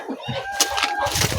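Chickens cluck in a steady, close chatter on a poultry farm, several birds calling over one another in short overlapping bursts that fill the whole moment.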